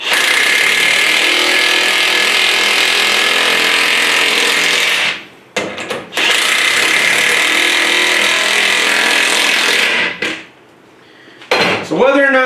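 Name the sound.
DeWalt cordless XR power tool driving lag bolts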